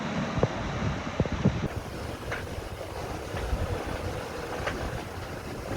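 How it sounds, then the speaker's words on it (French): Strong wind buffets the microphone aboard a sailboat in rough seas during a transatlantic race, with waves surging and splashing against the hull under a constant roaring rush. "il y a beaucoup de vent et beaucoup de mer"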